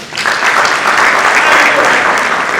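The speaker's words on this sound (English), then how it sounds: "Please clap for her again." Audience applauding at an annual retreat, a steady wash of clapping from a crowd that swells quickly and holds at a fairly loud, even level throughout.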